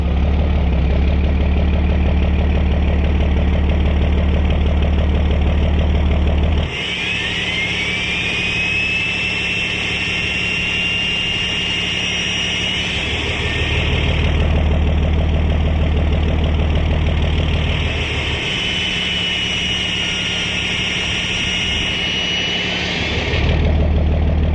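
A mobile mechanic's truck engine runs loudly with a deep idling rumble, while a high whining, jet-like tone surges in and out twice in long swells over the steady engine, with no talking.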